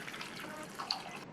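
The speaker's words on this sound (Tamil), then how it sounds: "இதில் இந்த கிழங்கு பொங்குற அளவுக்கு தண்ணி சேர்த்து" Water poured from a tap into a pan of drained, cut elephant foot yam pieces, a soft steady trickle and splash with a few small drips, close and fairly quiet, no voices.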